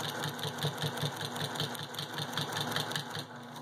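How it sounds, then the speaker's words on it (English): A sewing machine stitches quilt binding, a few stitches then a back stitch, its motor humming close and loud with a fast, regular mechanical pulse throughout, no talk. "now we're going to stitch about 4 or 5 stitches and back stitch to lock that into place"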